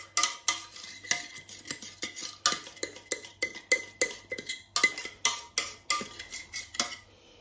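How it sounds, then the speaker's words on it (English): A spoon clinks and scrapes steadily in a pot while milk is stirred into a cheese sauce for cauliflower cheese, with quick, close, rhythmic taps that pause briefly near the end. "I'm going to mix a little bit of milk with it, because I don't like to waste this beautiful cheese sauce"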